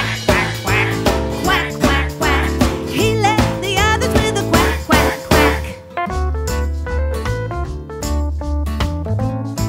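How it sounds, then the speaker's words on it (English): A duck's quack sounds within a children's nursery rhyme song, repeated quacks woven into bright sung music with instruments playing throughout. "he led the others with a quack"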